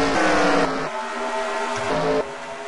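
NASCAR Xfinity Series stock cars racing at Dover, engines droning loudly with pitch shifting as the pack passes, one surge fading near the middle then a steady roar returning.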